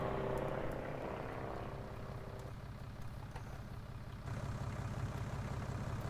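In Farming Simulator 19, a propeller airplane's engine drones loudly and continuously, its pitch sliding downward as it passes and recedes, with a rougher rumble returning in the final seconds.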